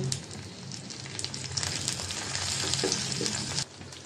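Onion with ginger and garlic sizzles steadily in hot oil, a constant crackling fry with occasional stirring clicks and no voices.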